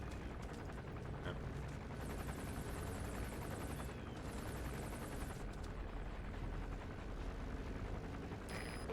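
A security-forces helicopter patrols overhead in a video game, its steady broadband rotor roar filling the scene continuously, loud and close, with some faint higher tones and clicks over it.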